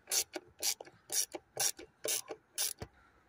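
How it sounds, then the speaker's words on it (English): A screwdriver ratchets in six short, evenly spaced bursts, close and crisp, tightening screws on the engine air filter housing of a 1.6 HDi diesel. "Now we just tighten back down these screws."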